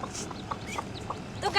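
Chickens in a flock give a few soft, scattered clucks, faint and mixed under a person talking.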